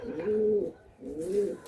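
Madrasi high-flying pigeons coo twice in close succession, each a low, rounded, wavering call about half a second long, close by and clear with a brief pause between them.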